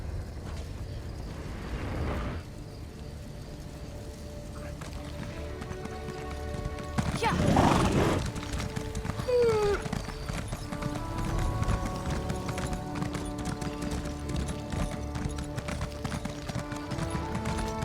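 Horse hooves clip-clop in the Elder Scrolls Online game, a fairly quiet steady trot beneath in-game ambience. A brief burst of louder activity comes near the middle.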